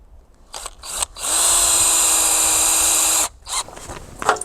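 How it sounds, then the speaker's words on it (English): A power drill drives a screw into a wooden garden trellis header, a single steady high whir lasting about two seconds, close and loud, framed by brief clatter before and after. "I'm going to put a couple screws in here just to secure this."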